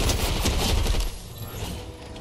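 Submachine gun fire in a video game, a dense burst of rapid shots with heavy low rumble that runs about a second, then drops to a quieter, rougher tail. Loud and close, with no talk over it.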